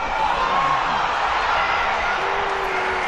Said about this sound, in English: It sounds like the crowd responded to you calling that one there